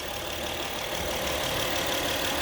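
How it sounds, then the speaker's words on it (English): A 2017 Acura RDX engine idles after an oil change, a steady, even mechanical hum with a broadband whir that holds constant throughout, heard close and without speech. "So I will just have to run the engine for a couple minutes, let the oil circulate"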